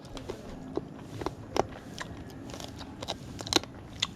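Crisp, irregular crunching bites into crunchy bagnet, Filipino deep-fried crispy pork belly, eaten outdoors; several sharp close crackles and snaps spread over a few seconds, fairly quiet, with no talking.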